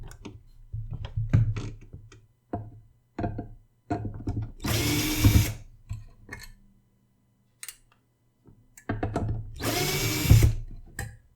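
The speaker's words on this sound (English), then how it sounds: "the only way you'll be able to easily remove this lid is to undo these screws" Power tool driving out the screws on the lid of a 3M Cantata 700 music system cabinet, heard in two loud bursts of about a second each, with quieter handling knocks and clicks between them.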